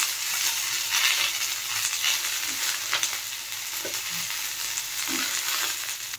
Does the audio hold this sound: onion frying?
yes